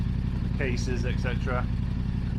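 A Yamaha R7 fitted with an Akrapovic exhaust idles steadily while warming up, a continuous low, close rumble with someone talking briefly over it.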